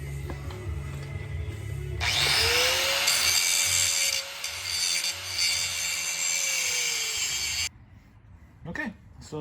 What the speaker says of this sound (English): took the grinder with the nice heavy grinding wheel on it, and basically went in about a 45-degree angle, and then just went all the way around.